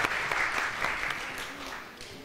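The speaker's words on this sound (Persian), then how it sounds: "تشویقشون کنید" An audience claps for game-show contestants, a dense, steady burst of applause that eases off toward the end, with faint voices underneath.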